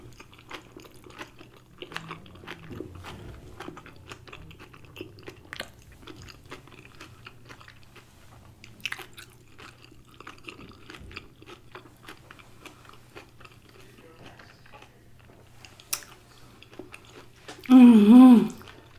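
A large chunk of lobster tail is chewed up close, with soft wet squishes and small bites running through a quiet room. A short hum of approval sounds near the end.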